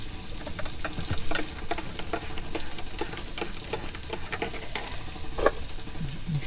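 A spoon stirs vegetables sizzling in a frying pan for stuffed aubergine, with steady frying hiss and irregular scraping and clinking strokes close by, no voices.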